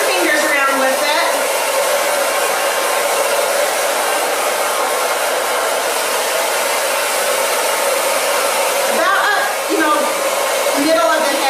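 A hair dryer blows on a girl's hair as it is styled into a stacked twist ponytail, a constant close rushing hiss that never lets up, with no talking.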